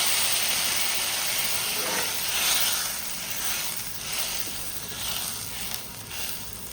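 Water poured into a hot pan of spiced potato curry made with homemade garam masala, giving a loud, steady broadband sizzle and hiss that swells and eases in waves across the whole stretch, with no talking.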